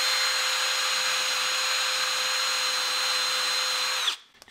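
A drill spins a 3M eraser wheel against the paint of a Ram 2500, stripping badge residue with a steady, loud high whine that holds for about four seconds, then cuts off abruptly.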